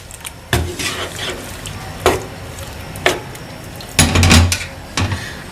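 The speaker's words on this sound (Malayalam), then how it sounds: "അതിലോട്ട് നമുക്ക് വറുത്ത് വെച്ചിരിക്കുന്ന പഴത്തിന്റെ കഷ്ണങ്ങളൊക്കെ ഇതിലോട്ട് ആഡ് ചെയ്ത് കൊടുക്കാം എന്നിട്ട് നന്നായിട്ട് മിക്സ് ചെയ്യാം" Fried banana pieces get stirred into jaggery syrup in a pan, with a few distinct clanks and scrapes of a spoon against metal spaced about a second apart, close and clear, without talk.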